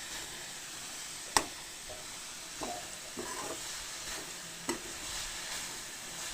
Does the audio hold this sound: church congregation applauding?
no